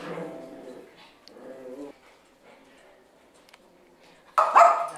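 Dogs at an animal shelter bark and yip in short bursts, fairly close, with quiet gaps between and a louder bark near the end.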